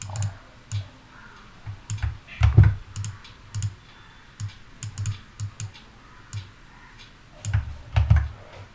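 Typing on a computer keyboard to log in: irregular bursts of close, crisp key clicks and taps, some louder thumps, spread across the whole stretch with brief gaps and no speech.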